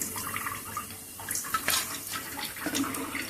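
Mutton keema balls deep fry in a pan of hot oil, a continuous hissing bubble and sizzle with small pops throughout, close and fairly loud.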